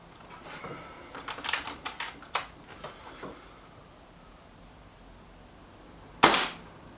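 A Kral NP-02 laminate air rifle at a target range. A run of quiet mechanical clicks and ticks comes first, then after a pause a single sharp, close shot cracks out and fades quickly, with no talk.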